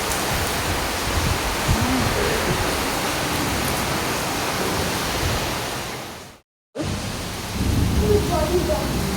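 Heavy rain pours steadily during a sudden downpour, a dense, loud hiss with water being driven into a house; the roar breaks off briefly near the end before resuming.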